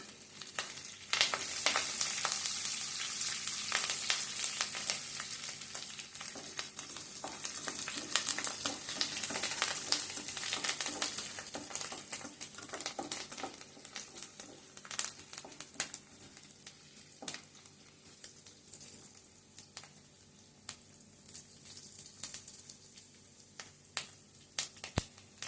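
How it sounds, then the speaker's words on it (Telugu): Curry leaves and dried red chillies fry in a pan for a carrot beetroot fry, making a steady close sizzle with scattered crackles and pops that fade slightly over time. "బాగా కొద్దిగా వేగిన తర్వాత అప్పుడు కరివేపాకు,"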